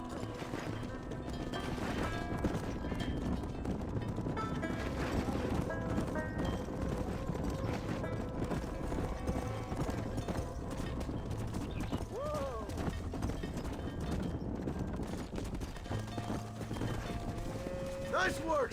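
Horses clip-clopping as they are led into a pen in the Red Dead Redemption video game, with hoofbeats steady and continuous under a busy layer of game ambience and music.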